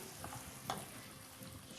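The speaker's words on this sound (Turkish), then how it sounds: "Şöyle tenceremize ilave ettik yavaş yavaş. Şimdi hemen kavuralım." Carrots sizzle and fry steadily in a pot, with a brief stirring scrape in the middle; continuous and moderately close, no talking.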